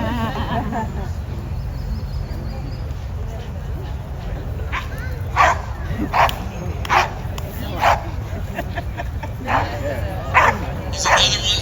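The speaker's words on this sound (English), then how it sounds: "He's another one just super friendly dog." Police K9 dog at an outdoor charity run barks and yips in short repeated bursts, fairly close. Crowd chatter and voices continue underneath throughout.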